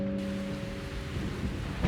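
A thunderstorm rumbles with steady heavy rain around a castle, a continuous low roar of downpour and distant thunder with no voices, and a faint soft tone lingering underneath.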